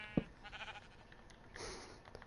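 A sheep in the video game Minecraft gives a short bleat amid game sound effects, brief and moderately loud.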